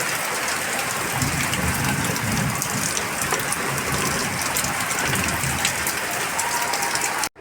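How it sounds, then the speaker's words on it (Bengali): Heavy monsoon downpour falling steadily for a long spell, a dense continuous hiss and patter of rain on surfaces, loud and unbroken throughout with no voices. "বিশাল জোরে বৃষ্টি হচ্ছে, অনেকক্ষণ থেকে হচ্ছে বৃষ্টি"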